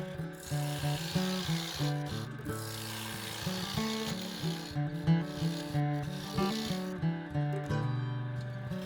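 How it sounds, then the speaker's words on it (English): A wood lathe turns a tenon on a wooden honey jar lid blank. The tool scrapes and rasps continuously over a steady motor hum, close and even, with brief pauses between cuts. "Next, I turn a tenon so I can mount it to the chuck to form the inside of the lid."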